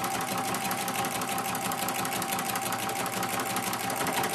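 A sewing machine stitches the binding on a quilted placemat, a close, fast, even mechanical whirr running steadily throughout.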